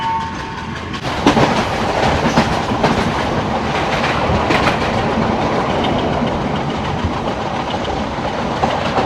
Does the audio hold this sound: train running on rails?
yes